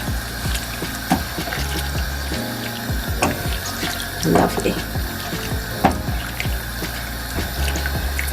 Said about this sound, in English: Just use the pressure of the tap